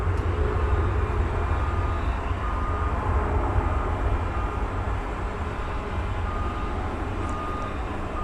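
A jet airliner roars steadily while taking off at night from runway 18 Left at DFW Airport, a broad continuous rumble holding at even loudness throughout with no voices.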